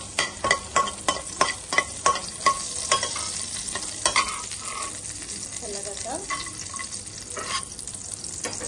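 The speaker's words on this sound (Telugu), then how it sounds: "స్టవ్ ఆన్ చేసుకొని కొద్దిగా అండి 2 స్పూన్ ఆయిల్ పోసుకోవాలంటే. దాని తర్వాత ఎండుమిర్చి ఒక 2 వేసుకోవాలండి." Two dried red chillies fry in a couple of spoons of hot oil on a stove, a steady sizzle broken by a run of sharp metallic clinks and scrapes from stirring at the start.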